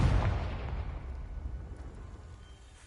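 A Confringo fire-blast spell explodes in the Hogwarts Legacy video game, a loud deep boom at the start that rumbles and slowly decays over a few seconds.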